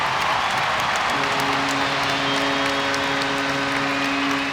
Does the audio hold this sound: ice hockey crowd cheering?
yes